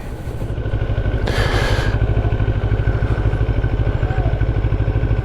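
A motorcycle engine idles close by in traffic, a steady low throbbing pulse that runs unbroken for about five seconds, with a brief burst of hiss partway through.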